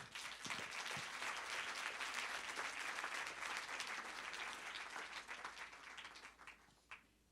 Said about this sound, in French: je vous demande qu'on les applaudisse bien, bien fort